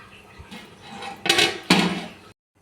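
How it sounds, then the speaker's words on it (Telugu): Metal lid set onto a pot of Godavari-style fish curry (chepala pulusu) cooking on the stove, giving two sharp clanks close by over a soft background. "ఇలా మూత పెట్టేసి కుక్ చేసుకుందాం"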